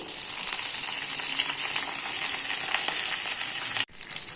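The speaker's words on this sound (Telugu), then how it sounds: "పోపు దినుసులు వేసుకోవాలి." Tempering spices for tomato dal crackling in hot oil in a bowl on the stove, a loud, steady close sizzle with a brief cut near the end before it resumes, no voices.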